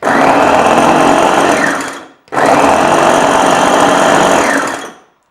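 A Vitek VT 7019 electric food chopper runs on its first speed, whirring loudly and steadily for two bursts of about two seconds each, separated by a brief stop.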